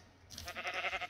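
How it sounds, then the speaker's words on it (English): A Minecraft sheep bleats in the video game, a wavering, nasal cry that rises after a moment of quiet and holds for about a second, close and moderately loud with nothing else over it. "I don't want to kill the sheep"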